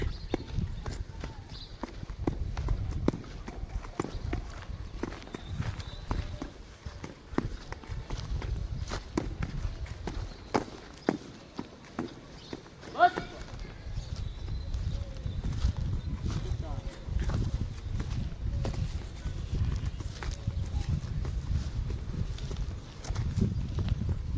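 A horse's hooves clip-clop in a steady walking rhythm through the whole stretch, close and fairly loud, with a brief lull in the middle and occasional sharper knocks.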